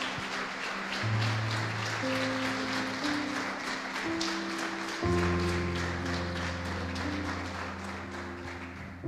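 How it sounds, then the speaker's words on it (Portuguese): A church congregation applauds during a Sunday-night celebration service, a steady wash of clapping held under sustained keyboard or organ chords that shift pitch partway through. "aplauda o nome dEle."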